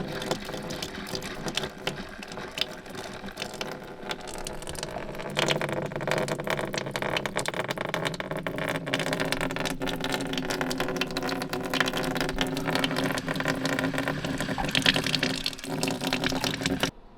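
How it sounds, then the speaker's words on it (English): A plugged-in water pump runs as a valve opens, sending water flowing into a house, a steady broadband rush that swells and grows louder partway through and holds continuously, with no talk. "Well, the pump is plugged in. I've just opened the valve."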